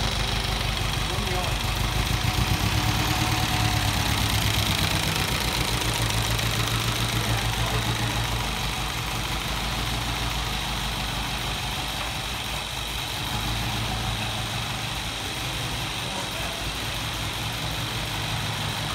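Steady low rumble of a 1952 MG car engine idling after sitting unused for a decade, close and loud, continuous with a slight drop in level midway.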